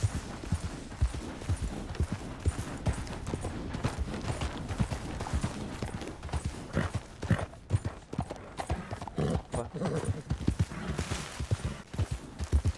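Horse hooves walking over ground in Red Dead Redemption 2, a steady clip-clop close by and fairly loud throughout, with an occasional whinny and faint game ambience around it.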